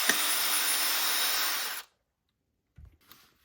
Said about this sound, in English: So we're using a drill.